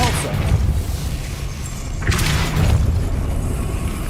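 A Depulso spell cast in the Hogwarts Legacy video game lands as a heavy booming thud, with a burst of crackling debris around the two-second mark, over a constant rumbling game soundscape.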